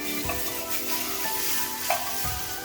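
Ginger and garlic roasting briefly in a pan for Konkani mutton rassa, a steady soft sizzle with faint stirring scrapes, close and continuous.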